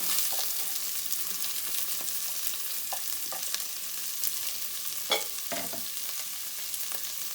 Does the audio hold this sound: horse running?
no